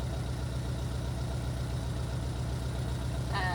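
A VW bus engine idles steadily after an electrical fault repair, a low rhythmic pulsing running throughout at close range, with a brief higher-pitched sound near the end.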